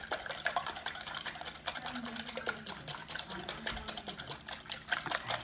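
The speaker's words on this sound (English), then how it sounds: "I'm going to just whisk those up." About ten eggs are whisked in a bowl, giving a rapid, steady ticking and clattering rhythm that is quiet, close and continuous throughout. No one speaks.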